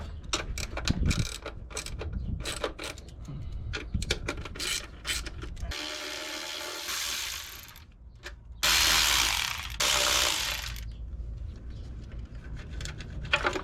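A ratchet wrench clicks rapidly as bolts on a car intake manifold are loosened, close and steady, broken by stretches of broader rushing and scraping noise.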